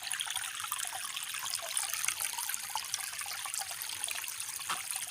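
Small stream water trickling and flowing steadily, a continuous soft bright babble at close range with no voices over it.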